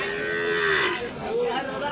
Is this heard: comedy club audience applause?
no